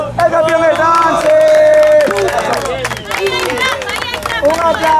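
A crowd at a freestyle rap battle final claps and cheers in a loud, busy burst, mixed with an announcer's shouting voice and chatter throughout.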